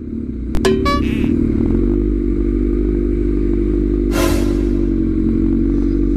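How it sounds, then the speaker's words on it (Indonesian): A Kawasaki Ninja H2 motorcycle rides along a public road, its engine droning steadily and loudly, with a sharp clatter early on and a brief scraping burst partway through. "Ini sesuatu yang baru menurut saya, mengendarai H2 Kawasaki dan menggunakan Werfak by Jonathan Rea aja."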